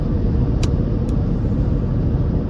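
Steady low rumble of a functional car in motion, a constant road and engine drone with two brief faint clicks early on.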